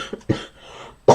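A person coughs: two short hacks close together, a pause, then one louder cough, alone with no talk.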